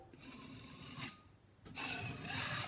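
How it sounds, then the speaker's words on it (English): A putty knife scrapes excess spackle off a drywall patch in two steady, rasping passes with a short pause between them, close up and with no talking. "Get rid of some of this excess spackle."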